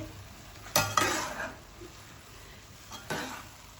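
A spoon scrapes and stirs through fully cooked, fluffy jaggery rice in a pot, with two bursts of clinking and scraping followed by quieter movement, close and fairly soft with no talking.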